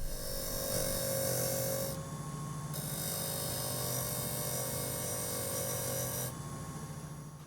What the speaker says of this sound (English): I'm starting with the spindle gouge to initially cut them in